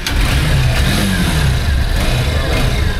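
Honda Hornet 2.0 motorcycles arrive at a launch party, engines droning loud and close in a continuous rumble with rising revs, amid crowd noise and voices.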